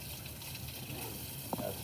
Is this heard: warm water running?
yes